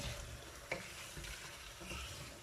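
One kilogram of chicken being bhuna-fried and stirred in a spice-powder masala for murgh badami, giving a steady close sizzle with a few scraping stirs of the spoon and no talk.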